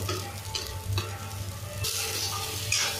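Spiced potato and cauliflower sizzle and fry in a pan while a spoon stirs and scrapes through them, a steady close hiss with intermittent clatters, no talking.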